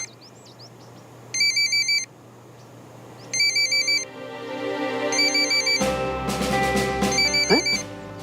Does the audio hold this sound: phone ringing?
yes